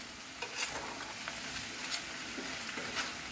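Korean spicy chicken stir fry is stirred in a hot pan, with a steady sizzle under light scraping and occasional clinks from the utensil.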